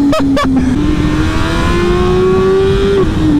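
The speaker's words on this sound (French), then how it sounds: "le passage au shifter" A loud BMW S1000R motorcycle engine revs high, with two quick sharp blips as the quickshifter changes gears rapidly, then a sustained rising whine that drops briefly at the end.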